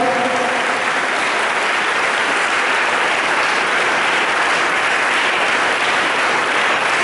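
A school audience gives a loud, steady round of applause for a student who won a silver medal at an under-17 CBSE North Zone boxing championship, with dense clapping sustained for the whole stretch and no talk over it.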